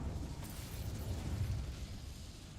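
A dense, sustained fiery blast from an Incendio fire spell in the Hogwarts Legacy video game, a loud rumbling roar with crackling bursts that holds steady for a couple of seconds without pause.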